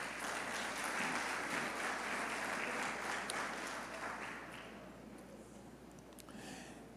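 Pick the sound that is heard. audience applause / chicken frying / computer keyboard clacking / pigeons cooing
audience applause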